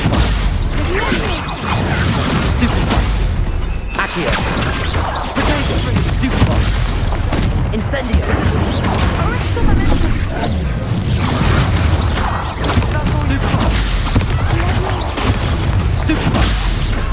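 Magic spell blasts crack and boom through continuous, loud combat in the video game Hogwarts Legacy, with explosions and whooshes layered densely over a busy game soundtrack and a voice calling out spell names.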